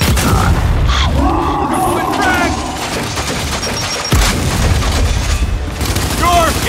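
A frag grenade explosion in Gears 5 erupts amid ongoing game combat, with heavy booms and gunfire-like bursts mixed with shouted voices and game effects across several seconds.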